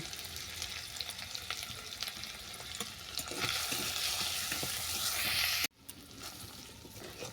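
Bay leaf, ginger paste and a pinch of asafoetida frying in hot oil give a close, steady crackling sizzle that swells louder before stopping abruptly, then resumes more quietly.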